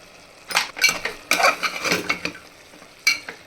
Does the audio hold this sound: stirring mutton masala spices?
yes